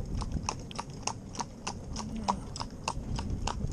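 Shod hooves of a New Forest pony clip-clop steadily at a walk, about three or four crisp metallic strikes per second, close and clear over a low rumbling background.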